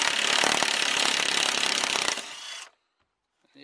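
Bolts being worked out of an OEM car shifter assembly with a power tool, a loud continuous grinding whir for over two seconds that cuts off abruptly, followed by near silence and a faint click at the end.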